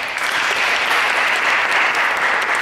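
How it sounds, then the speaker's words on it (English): An audience claps steadily and densely all the way through at a song performance, forming a close, continuous wash of applause with no voices rising above it. "So then she sang her whole song, and it's over, and you all clap."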